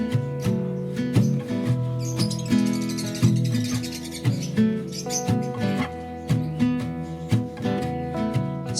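African lovebirds in a cage keep up a dense, busy chatter of chirps and squeaks that runs without a break, close and fairly loud, with no voices.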